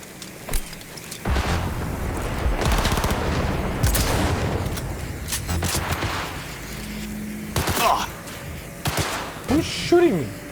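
Automatic gunfire bursts in Cyberpunk 2077 Phantom Liberty, loud rattling volleys and sharp shots in a chaotic firefight, with brief pauses and shouted voices between the bursts.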